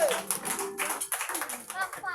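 Audience clapping at a church Thanksgiving Day service, lively and uneven bursts of claps with short gaps, mixed with children's voices and chatter.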